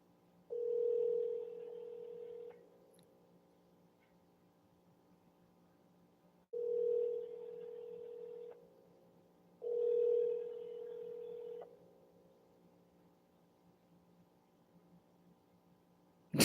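Telephone line tones during a call transfer to a non-emergency number: three separate steady electronic tone bursts, each about two seconds long, with quiet line hiss between them and no talking.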